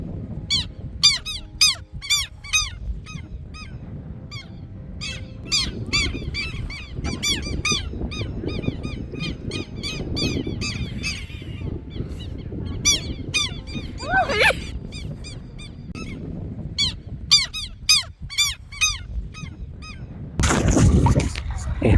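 Southern lapwings and ducks on a lake call out in a steady run of sharp, repeated shrill cries, fairly close, over low rumbling wind and water noise, with a brief louder burst near the end.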